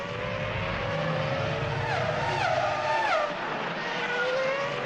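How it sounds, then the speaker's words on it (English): A 2003 Australian Grand Prix Formula One car slides heavily into the barriers. Its high engine whine sweeps and bends in pitch over a loud, continuous roar, with screeching tones near the middle of the clip. "a heavy slide into the barriers cools his charge before he even gets to the pits"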